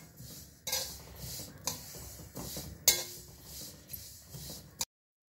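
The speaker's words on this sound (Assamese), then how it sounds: "আৰু এইদৰে আমি কেৰাহীত এনেদৰে ভাজি ল'ব।" Sesame seeds dry-roast in a wok without oil, with intermittent scraping and clinking strokes of a spatula against the metal at an uneven rhythm, fairly quiet and close, no voices.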